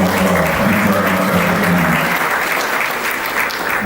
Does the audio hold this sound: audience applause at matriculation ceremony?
yes